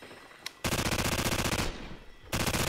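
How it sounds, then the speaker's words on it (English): A light machine gun firing at about 937 rounds per minute in Call of Duty: a short blip, then a sustained rapid automatic burst for over a second, a brief lull, and another loud burst starting at the end. "937 rounds per minute fires much faster than many other automatic weapons in this game"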